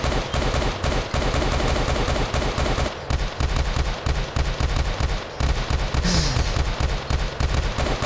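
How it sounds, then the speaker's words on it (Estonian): Rapid automatic gunfire from a new weapon in a FreqCraft video game, dense bursts of shots cracking in quick rhythm with brief pauses between volleys, fairly loud and steady throughout. "Ma tahan kuule relvaga lasta."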